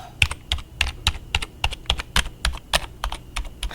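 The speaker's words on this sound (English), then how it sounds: "I also like that ASMR keyboards." Keys on a computer keyboard are typed in a steady run of crisp, close clicks, each stroke distinct and evenly spaced, heard alone with no voices.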